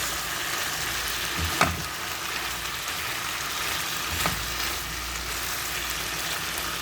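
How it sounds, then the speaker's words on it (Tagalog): Sliced green and red capsicum and onions stir-frying in a pan give a steady, close sizzle, with a couple of soft stirring knocks and no talking. "Then add a sliced capsicum, green and red, and sliced onions. Stir fry for about 2 minutes."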